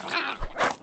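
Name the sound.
dogs in video game Survival: Fountain of Youth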